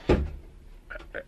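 A drawer or cupboard door pulled open indoors, one sharp knock of wood near the start followed by a couple of fainter soft bumps and rattles.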